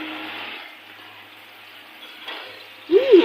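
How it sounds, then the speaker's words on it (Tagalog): Crab being sautéed in butter for a Filipino alimasag dish gives a steady, soft sizzle that fades slightly midway, then swells with a louder burst of frying near the end. "Gigisa lang po namin sa butter mga ka-isla."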